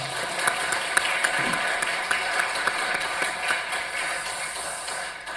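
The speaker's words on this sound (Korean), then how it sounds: "우리 박수 한번 치겠습니다." A church congregation claps together at a New Year's Eve service, a steady dense patter of many hands at moderate volume filling the hall without pause.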